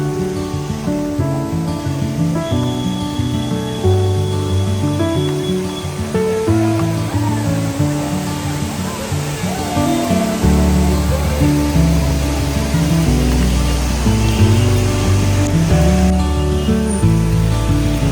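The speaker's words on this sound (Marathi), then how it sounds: "एकाच ठिकाणी केवढे धबधबे आहेत बघा" Many monsoon waterfalls at Malshej Ghat send up a continuous rushing roar of falling water, heard steadily under background music throughout.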